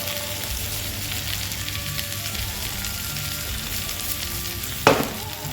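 A spice bag sizzles and fries in a hot pan, steady crackling bubbling throughout, close and fairly loud, before a sharp clatter near the end as the pan is tossed.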